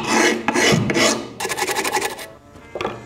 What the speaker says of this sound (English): So you wanna use a screwdriver and just grind it.